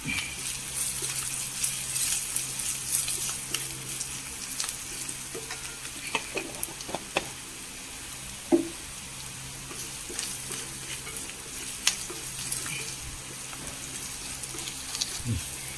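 Crushed chillies frying in a pan for a homestyle lunch, a low, continuous sizzle with occasional small clinks and spatula taps.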